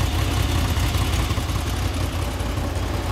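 A 2014 Honda VFR800F motorcycle engine idles with a steady, throaty low rumble, close by and loud, holding an even pitch throughout.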